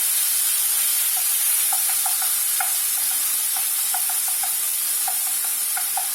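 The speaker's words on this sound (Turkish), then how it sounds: "Domateslerimin kaynadığını gördüğüm gibi" Tomatoes boiling in a pot on the stove for a Turkish olive-oil fresh pea dish, giving a steady close hiss with scattered soft bubbling pops throughout, no voices.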